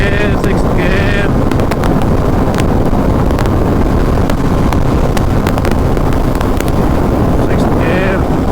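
Steady roaring ride on an Apache RR 310 motorcycle in sixth gear at high speed, with heavy wind buffeting and engine drone filling the whole stretch and no letup.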